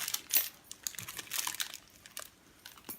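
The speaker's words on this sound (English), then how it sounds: "So once we have the ribbon on there, obviously we need to curl it." Scissors blade drawn along gift ribbon to curl it, giving a dry, crinkly scraping with quick rustling strokes and small ticks, faint and close with no voices.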